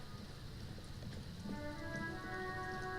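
Rain falls steadily within the video game Disco Elysium, a soft hiss of drops, with faint tonal music entering partway through.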